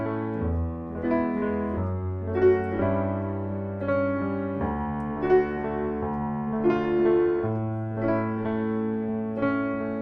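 Solo piano plays the chords of a song with a loose, slightly lazy right-hand rhythm in the style of the recording's rhythm guitar, steady and clear over sustained low bass notes, no voices.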